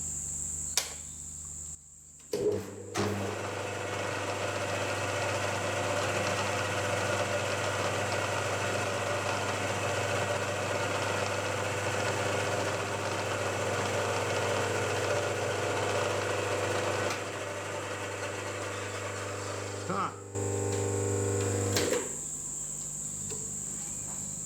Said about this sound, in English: So I'll go ahead now and countersink all these 3 holes for these